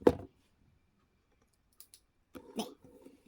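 A button on a handmade mirror lamp is pressed to switch on its light: a clear plastic click at the start, then a few softer clicks and handling taps close by after a silence.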